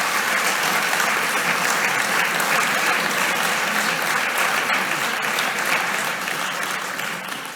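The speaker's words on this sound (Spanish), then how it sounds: "les vamos a dar la bienvenida con un fuerte aplauso de esta sala que está a reventar" A packed, overflowing hall bursts into loud, sustained applause to welcome guests at a Spanish-language conference in La Rioja, a thick continuous wash of clapping that fades slightly at the end.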